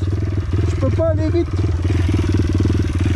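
A motorcycle fitted with a specially prepared engine runs at a steady low throb close by, with someone speaking briefly over it as the test ride starts.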